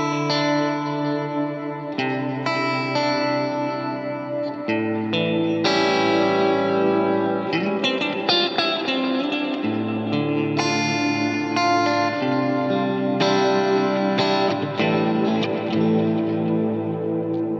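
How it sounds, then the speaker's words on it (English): Ambient electric guitar run through a Line 6 POD GO vintage digital delay, sustained chords and picked notes smeared by echoes, chorus and reverb into a continuous washy texture, with no voices. "Let's engage the vintage digital delay block."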